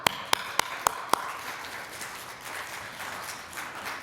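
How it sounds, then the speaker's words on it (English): An audience at an anniversary celebration for the Americans with Disabilities Act begins clapping. Five sharp, evenly spaced claps open it, then they fade into a soft, diffuse patter of scattered applause. "let's do this, everybody. Clap."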